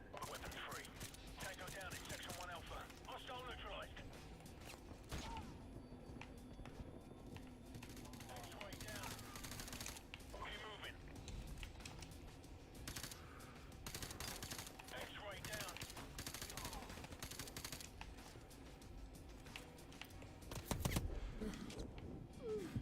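Rapid bursts of video game gunfire crackle steadily through a shooter match, dense and continuous at moderate loudness with a heavier thump near the end, while someone talks over it.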